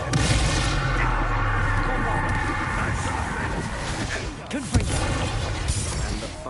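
Confringo fire spell blasts in the video game Hogwarts Legacy, heavy booming explosive bursts with crashing debris layered in a dense, loud battle din, a sharp impact standing out near the end.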